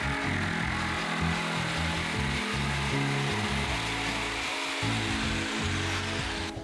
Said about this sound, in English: I resorted to using a jigsaw in order to preserve some of them